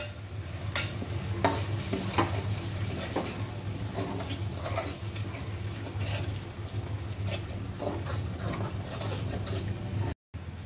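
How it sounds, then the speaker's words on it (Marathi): Pav bhaji gravy with red chilli, garam masala and pav bhaji masala frying in a pan, a dense continuous sizzle with frequent spoon scrapes and taps, loud and close throughout. "हे सगळं आपण व्यवस्थित फ्राय करून घेऊया"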